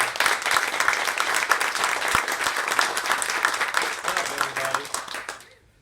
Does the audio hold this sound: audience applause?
yes